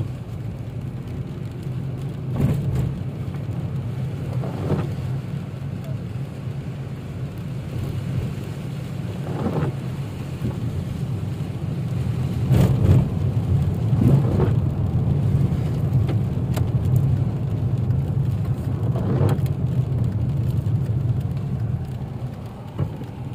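Steady heavy rain drums on a car driving along a road in Medina, a continuous broadband wash with occasional louder splashes and low road rumble, no voices.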